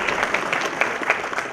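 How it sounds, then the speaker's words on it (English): An audience applauds at a lecture event on criminal justice, with steady, dense clapping throughout and a faint murmur of crowd beneath it. "I think they deserve a big applause."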